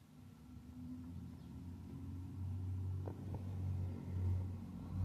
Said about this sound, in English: There's a new vehicle in the area.